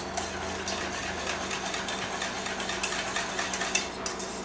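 Whisk working through a thickening sauce in a pan, giving a steady, close scraping and stirring texture with small metallic taps over a low hum from the stove.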